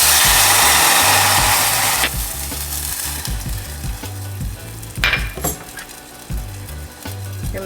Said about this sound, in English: Once your shallots have gotten nice and brown, we're going to add in our balsamic vinegar